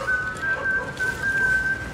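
A person whistles a sustained tune in imitation of Omar's whistle from The Wire, a clear, steady whistle close by with brief pauses and no talk.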